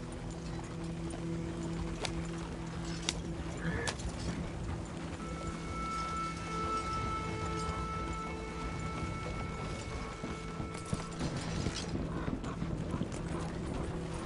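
A horse gallops in Red Dead Redemption 2 with a steady, rapid run of hoofbeats over a continuous background bed, close and even in level throughout.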